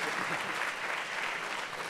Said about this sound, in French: On va encore vous applaudir